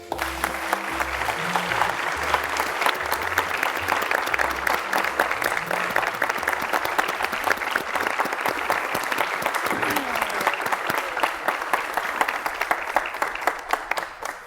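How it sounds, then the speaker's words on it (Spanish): A theatre audience gives loud, sustained applause for the director of Mexico's National Theatre Company, a dense wall of many hands clapping steadily from start to finish, with faint voices beneath. "Démosle un fuerte aplauso al maestro de Tavira"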